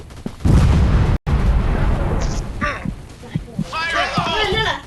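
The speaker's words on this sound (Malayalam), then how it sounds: "ഒരു ഗ്രനേഡ് അടിച്ചു വിട്ടാലോ?" A grenade goes off in a video game with a heavy low boom, then scattered gunfire-like bangs and game effects follow under an excited voice.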